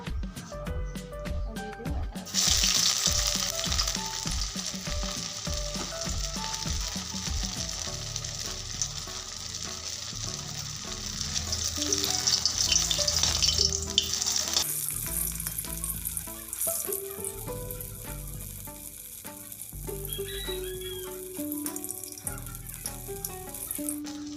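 Bread rolls deep-frying in hot refined oil in a kadai give a loud, steady sizzle and crackle that runs throughout, with occasional clinks and stirring noises, and no one speaking.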